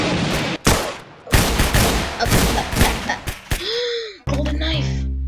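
Gunfire from weapons in the online shooter Arsenal during a free-for-all match comes as loud bursts and single cracks separated by brief gaps, ending with game sound effects and a rising electronic tone.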